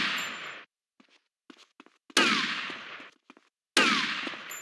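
GTA Vice City gunfire comes in three loud, sharp bursts of rapid shots, each cutting off abruptly, with short silent gaps and a few faint clicks between them.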